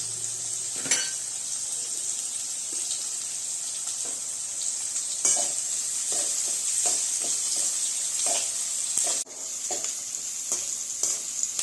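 Chopped onion sizzles in hot oil with asafoetida for stuffed eggplant, a steady close frying hiss broken by repeated scraping stirs of a spoon against the pan, no voices.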